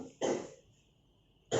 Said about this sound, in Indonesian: Maaf ya Bapak, sedang batuk,